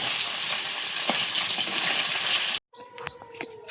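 Small fish fry in hot oil with a dense, close, steady sizzle, then the sound cuts off abruptly and is followed by a few unrelated tonal sounds.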